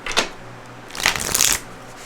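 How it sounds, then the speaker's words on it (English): Tarot cards being shuffled in two quick bursts, a brief riffle followed by a longer, louder flurry of papery slaps, close by with no talking. "I'm just going to shuffle one more time."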